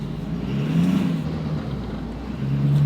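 A Ford F250 pickup's engine labours steadily while dragging a scrap car, a low, close rumble that swells slightly as it pulls, with no voices.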